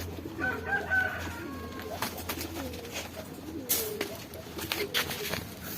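Soft pigeon cooing and bird calls sound nearby over faint background noise, with scattered brief clicks and rustles.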